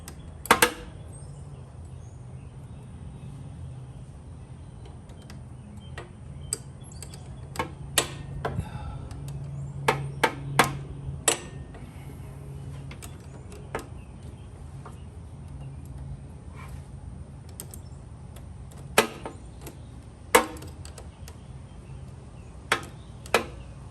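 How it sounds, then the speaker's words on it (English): A wrench taps and clinks against a motorcycle fender while a clutch cable is lubricated, scattered sharp metallic ticks coming irregularly close by over a quiet, steady background hum. "every time I bump that fender with my wrench"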